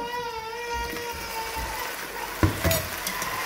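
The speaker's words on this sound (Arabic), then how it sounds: "هسه بعد ما حمس عندي البصل والثوم هسه راح اضيف اللحم" Meat dropped into a pan of sautéed onion and garlic for Iraqi-style Indian rice sizzles and crackles steadily, with a few sharper pops near the end over a sustained tonal background.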